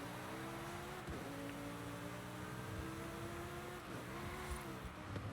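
A Lamborghini Huracan engine in Forza 5 drones steadily at high revs, with harmonic whines that dip and climb again during a turbo boost, fairly quiet and without talk.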